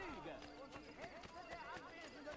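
Rhythmic hoofbeats of a horse in Assassin's Creed Brotherhood clip-clop along steadily, with a voice and other game sounds layered over them throughout.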